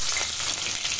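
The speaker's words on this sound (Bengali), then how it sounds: "দিয়ে দিচ্ছি পেঁয়াজ কুচি।" Chopped onion sizzles steadily in hot oil in a pan with bay leaf, dried chilli, five-spice and sugar, a dense close hiss with faint stirring, no voices.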